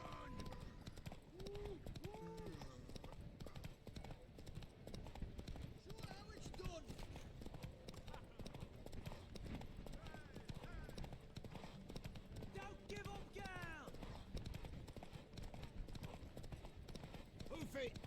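Hooves clip-clop steadily as a horse gallops in The Witcher 3, running continuously beneath game music and spoken dialogue, with a brief whinny.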